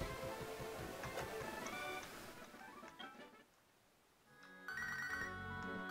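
A telephone ringing inside a video game, electronic ringtone tones repeating in bursts over background game sounds, fading briefly before the ring resumes loudly near the end.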